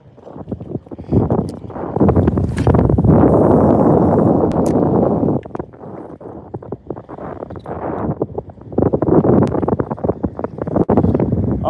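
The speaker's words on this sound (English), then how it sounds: "the wind shifted, so now the wind is blowing in a different direction." Wind gusts buffeting a microphone outdoors, loud low rumbling bursts that swell and fade in two long waves with rustling between.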